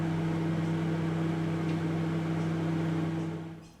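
Microwave oven running while cooking, a steady loud droning hum with a strong low tone, close and unbroken, fading away as it stops at the end.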